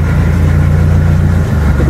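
A fishing boat's double 4DR30 engines running at a steady idle, a loud, continuous low rumble that stays even with a slight dip near the end.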